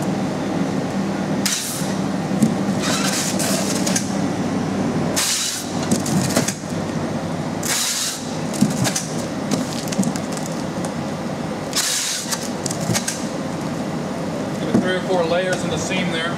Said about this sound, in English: I'm just going to go ahead and tape this up good.